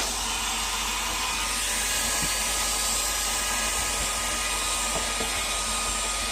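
A Conair hair dryer blows on alcohol ink, giving a continuous loud, even whooshing hiss that holds steady from start to finish with only faint small knocks in the background.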